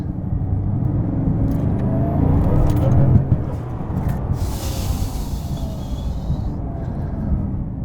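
A Porsche Taycan electric car accelerates hard, a steady broadband rush of road and wind noise building loudly and close, then holding with a slight swell and fade, no speech over it.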